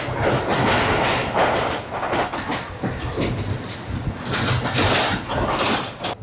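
Khushal Khan Khattak passenger train rolling along the rails toward a station, a steady broad rumble with rhythmic clatter of the carriages swelling and easing throughout.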